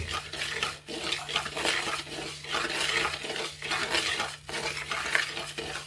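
Rice dry-roasting in a pan for homemade sambar powder, with a steady scraping stir and light rattling of grains running continuously for several seconds, close and fairly loud, with no talking.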